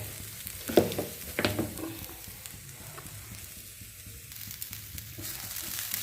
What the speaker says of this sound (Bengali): নারকেলটা একটু ভাজা ভাজা করে নিলাম।